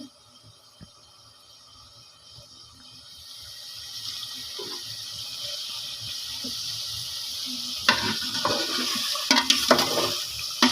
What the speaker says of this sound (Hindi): अभी दूसरे चम्मच से इसको अच्छी तरह से मिक्स करेंगे।